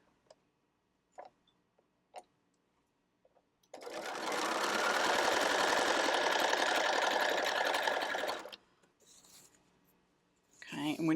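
A sewing machine runs steadily for several seconds, stitching along the bottom of a canvas tote bag, with a few light clicks and taps before and after the continuous whir.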